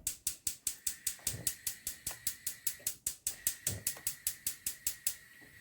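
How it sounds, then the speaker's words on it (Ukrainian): A gas stove burner being lit: a fast, even train of sharp igniter clicks, about five per second, close and crisp, with a faint steady hiss of gas under them and no talking. "Так, включаємо газ."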